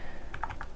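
A few quick keystrokes on a computer keyboard while code is typed, four soft clicks close together near the end of a brief, quiet moment.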